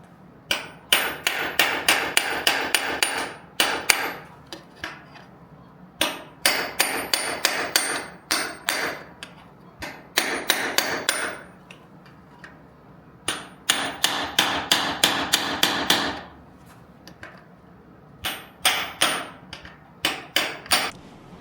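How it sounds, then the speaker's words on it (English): Repeated bursts of sharp hammer blows on a chisel, knocking out a motorcycle exhaust end cap to fit a Pin It racing end cap, in rapid clusters separated by short pauses, loud and close with no talking. "You just kind of hit it with a hammer, work its way around, and it will come right out."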